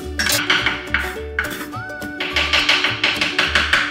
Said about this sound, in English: Now we're just gonna mince the shallot.